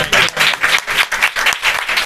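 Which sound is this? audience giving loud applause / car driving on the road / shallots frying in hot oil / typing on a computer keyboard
audience giving loud applause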